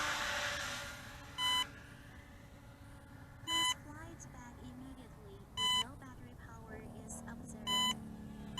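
Four short electronic beep bursts from an Aosenma CGO36 Shadow Pro quadcopter returning home, evenly spaced about two seconds apart, sound over a steady motor whine and wind noise.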